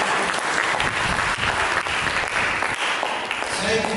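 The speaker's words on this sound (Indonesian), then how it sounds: "Mari kita berikan tepuk tangan bagi Yesus." A congregation at a church service applauds in dense, steady clapping that fills the whole span, loud and close, with voices mixed into the crowd noise.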